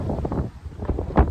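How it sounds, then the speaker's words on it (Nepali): Strong wind buffets the microphone outdoors with low, rumbling gusts that swell and drop, peaking hard near the end; no talking is heard. "हावा चाहिँ यता खत्रै लागिरहेछ होइन"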